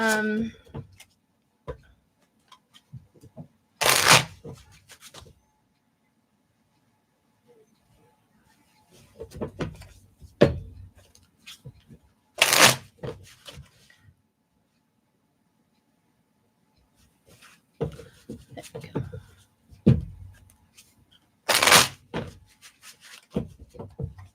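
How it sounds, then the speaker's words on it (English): Bursts of soft riffling and flicking, like playing cards being shuffled, come in short clusters separated by quiet gaps, with a voice speaking now and then. "All right, I'm still shuffling for"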